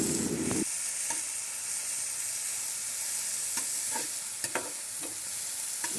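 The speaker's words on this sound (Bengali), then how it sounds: "পেঁয়াজগুলো আধা ভাজা হয়ে গেলে এর মধ্যে দিয়ে দিচ্ছি কুচি করে রাখা টমেটোটা দিয়ে আমি এবার একটু মিশিয়ে নেব।" Half-fried chopped onions and tomato sizzle steadily in a pan while a spatula stirs them, with scattered scraping clicks over a continuous frying hiss.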